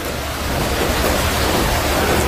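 Floodwater rushes through city streets in Mecca, strong enough to carry cars away, making a dense, steady roar of churning water that stays loud and unbroken throughout.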